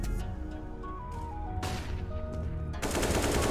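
Rapid bursts of gunfire in a competitive online shooter match ring out close and loud, with overlapping volleys, a short lull and a heavy final barrage, mixed with game music tones.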